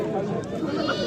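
Goats bleat at a busy livestock market, a short close bleat mixed with people talking and crowd chatter around the animals.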